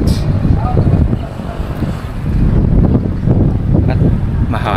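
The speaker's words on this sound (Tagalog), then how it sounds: "At mahangin." Strong wind at Sumlang Lake in Camalig, Albay, Philippines buffets the microphone with a loud, rumbling roar that surges and eases throughout.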